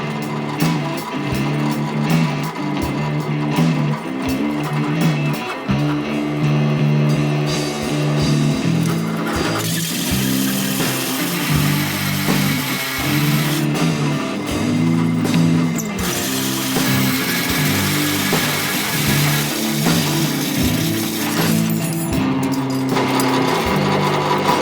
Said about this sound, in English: one of these little flappy guys on a die grinder to just kind of sneak up on that corner.